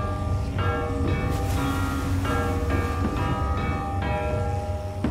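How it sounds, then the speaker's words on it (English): Bells ring out Jingle Bells in a steady series of loud, clanging notes over a constant low rumble in The Walking Dead: The Final Season game. "Is he actually playing Jingle Bells?"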